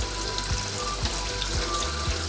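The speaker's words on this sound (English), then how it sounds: "Got cold water running on it. So we want to stop the cooking process." Cold tap water runs over cooked spaghetti in a colander in a home kitchen, a steady splashing rush with faint rhythmic knocks underneath, close and constant throughout.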